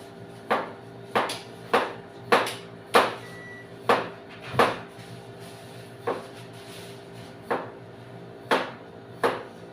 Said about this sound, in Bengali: এই যে আমি শাক কাটতে পারছি